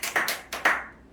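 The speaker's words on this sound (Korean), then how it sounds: "하나님 앞에 영광의 박수를 먼저 칩니다" A church congregation clapping, a few quick claps in two short bursts, close and crisp, then fading out.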